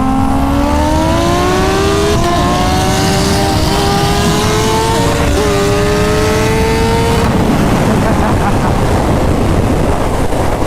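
A 1200 wheel horsepower Lamborghini racing a stock 2019 Kawasaki Ninja H2 Carbon motorcycle, with loud engines climbing in pitch through several gear shifts under a constant roar of wind, then dropping to a broad rushing noise.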